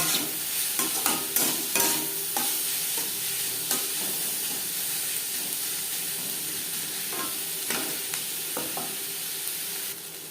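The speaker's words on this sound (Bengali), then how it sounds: "লবণ হলুদ দিয়ে দু তিন মিনিট পেঁয়াজ ভেজে নেওয়ার পর" Chopped onions frying in a pan with turmeric and salt, a continuous hiss of sizzling oil broken by repeated scraping knocks of a spatula stirring, loudest early on and then settling into a steady sizzle.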